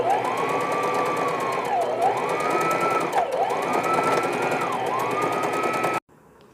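A sewing machine joins the front middle piece of a smocked dress to its side piece. It runs loud and close in one continuous stretch, its motor whine dipping and rising with the needle's rapid chatter, then stops abruptly.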